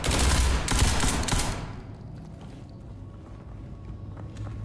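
Dense burst of rapid gunfire from an SCP Foundation shooter game, loud and crackling for under two seconds, then fading to a low, quieter background.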